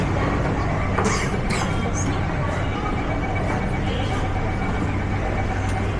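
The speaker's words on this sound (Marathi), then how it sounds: "मेट्रो आली" A Mumbai metro train pulls into the station as a steady, loud rumble of rail and motor noise, with brief high screeches of wheels and brakes. Indistinct crowd chatter runs underneath.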